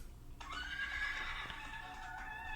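An animated inflatable Halloween horse decoration at a Party City store lets out a loud, drawn-out electronic neigh and whinny lasting a couple of seconds, with faint store background noise and no talking.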